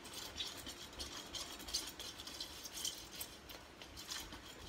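Bath bomb ingredients get mixed with a liquid containing alcohol, producing a soft, steady gritty stirring and scraping with faint rhythmic rattles, quiet and close.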